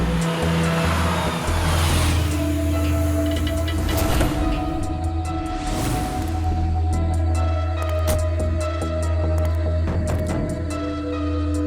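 Car driving along a road with a steady engine hum and road rumble throughout, plus a few louder whooshes of passing traffic; no one speaks.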